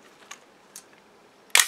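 A film camera's focal-plane shutter fires at a fast speed, a single sharp mechanical snap near the end after two faint clicks, close and alone with no talking.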